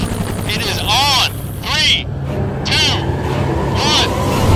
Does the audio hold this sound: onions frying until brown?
no